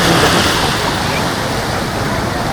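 Waves roll in and draw back on the sands of Cox's Bazar beach, giving a loud, steady roar of surf with wind noise, slightly stronger at the start.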